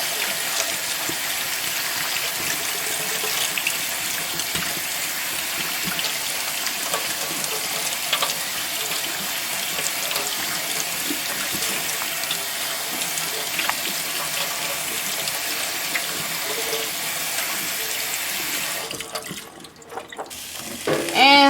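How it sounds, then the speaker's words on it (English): Tap water runs steadily into a sink as canned tomatoes are rinsed in a small container, a continuous close hiss that holds for about twenty seconds before shifting and splashing near the end. "But I'm going to get them out of the can first and rinse in a little container like this."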